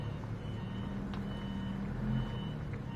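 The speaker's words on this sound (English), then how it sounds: "Noises like that. Tractors backing up." A tractor backing up at Wimbledon sends out faint, steady reversing beeps over a low engine rumble, heard at a distance with no talking.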